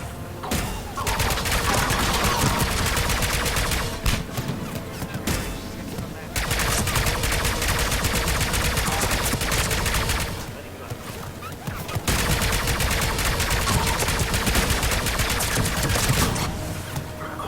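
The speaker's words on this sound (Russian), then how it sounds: "Откуда они стреляют, блин?" Sustained automatic gunfire rattles in a Mass Effect 3 battle, with loud, dense bursts of rapid shots broken by short lulls, then resuming.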